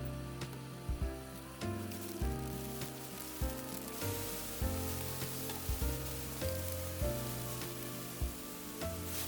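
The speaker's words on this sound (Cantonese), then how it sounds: "而家我哋可以落少少油，爆香啲乾葱同埋薑。" Shallots and ginger sizzling in a little hot oil in a wok, a crackling hiss under repeated rhythmic clanks of a metal spatula stirring, loud and close.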